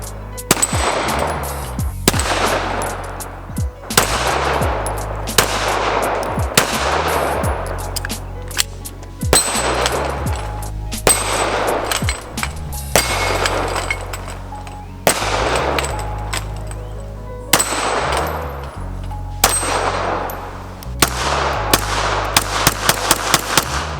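A Smith & Wesson M&P full-size 9mm pistol firing Lax ammunition outdoors, with sharp, loud reports spaced a few seconds apart, each shot ringing out briefly over a steady low rumble, about eight shots in all.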